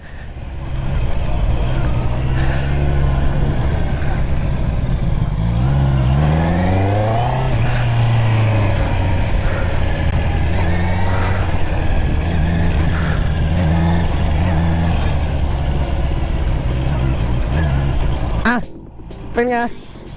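A Honda CBR650R E-Clutch motorcycle runs steadily under load while the rider shifts gears manually, its engine drone rising and falling through the gears for nearly twenty seconds before cutting off, with a voice talking over it throughout.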